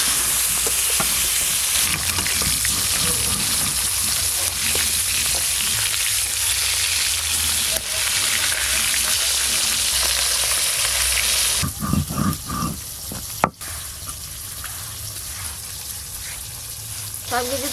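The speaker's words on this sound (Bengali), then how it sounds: "এবার মাছ ভাজা শুরু করব।" Fish sizzling and spitting in hot oil in a pan, a steady loud frying hiss with occasional stirring and scraping, then a quieter crackle near the end; no talk.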